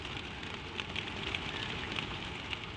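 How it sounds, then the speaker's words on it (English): Gentle, windless rain falling outside, a steady soft hiss of drops that stays even and constant throughout. "The falling of the rain outside and the deep, still hush of the great room within."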